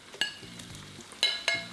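Beef sizzles and crackles steadily in hot oil at 375°F, with a few sharper bursts of spattering as it moves in the pan, close and fairly quiet.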